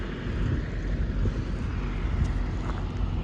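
Wind buffets a microphone outdoors in a continuous loud, low rumble that stays heavy and steady throughout, with no voices over it.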